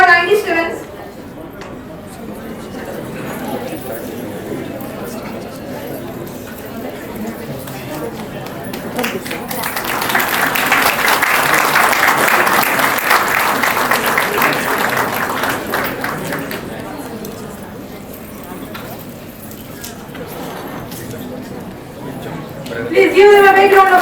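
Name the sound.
applause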